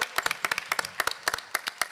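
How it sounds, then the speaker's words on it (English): Short burst of conference audience applause, a scattered run of distinct, fairly close claps at moderate volume with no talk. "Let's give Neil a round of applause."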